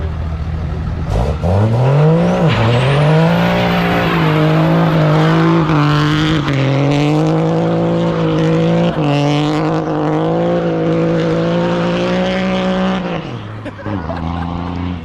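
A straight-piped 454 big block truck engine revs hard and close, climbing to a high roar, holding it with rough fluctuations, then dropping back to idle, very loud and alone.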